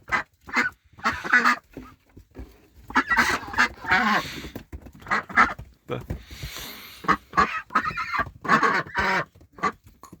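Domestic ducks quack loudly and repeatedly in short, uneven bursts close by, with brief pauses between the calls.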